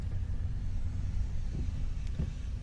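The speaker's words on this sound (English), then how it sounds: "We're gonna continue to drive through Rockport here." A car drives through hurricane-damaged Rockport, Texas after Hurricane Harvey, with a steady low engine and road rumble heard from inside the cabin and a couple of faint knocks.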